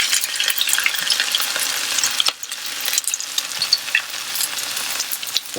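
Potato latkes fry in a pan of hot oil, giving a dense, steady sizzle and crackle up close that holds for several seconds with only a brief dip partway through.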